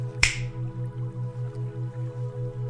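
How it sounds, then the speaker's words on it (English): A single sharp finger snap rings out clearly near the start, set against a quiet, calm meditation backdrop with a steady low pulsing hum continuing underneath. "When I snap my fingers, you activate your mind power to simply enjoy your life."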